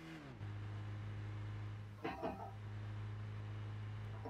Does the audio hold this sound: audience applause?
no